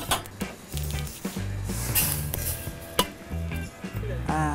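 Sesame seeds roasting in a dry pan without oil, crackling and popping in quick bursts over rhythmic scraping and clanking of a ladle against the pan, close and busy.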